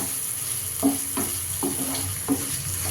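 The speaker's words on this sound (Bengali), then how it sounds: "এরপর আমি দিয়ে দিচ্ছি চিকেন একটু পিস করে কেটার সাথে ভালো করে ফ্রাই করে নিতে হবে" Chicken pieces fry in a pan with ginger, giving a steady sizzle broken by several short stirring scrapes, close and moderately loud, with no talking.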